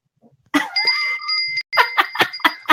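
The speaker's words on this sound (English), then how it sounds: "tonight I'm just going to ring the bell" A bicycle-style bell rung in a studio setting, sounding as a sustained ring followed by a quick series of sharp dings, loud and close, with no talk over it.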